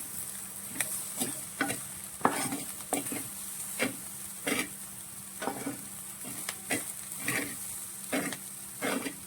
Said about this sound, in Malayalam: നമ്മൾ നന്നായിട്ട് ഇതൊന്ന് മിക്സ് ചെയ്യുവാണേ.